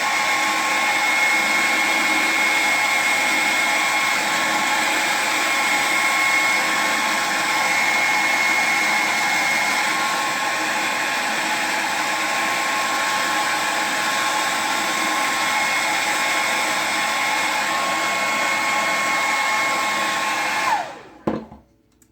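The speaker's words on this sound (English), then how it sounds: "I just use my hair dryer to help that step" A hair dryer blows continuously at a steady, loud whine for about twenty seconds, then is switched off and winds down.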